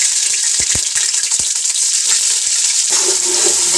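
Garlic, ginger and green chillies frying with onions in a pan for keema pulao, a steady broadband sizzle with a few sharp clatters of a utensil early on, close and continuous with no talking.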